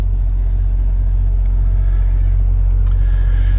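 A truck engine idles at a truck parking lot, a heavy, steady low rumble close by that fills the whole stretch, with faint light clicks above it.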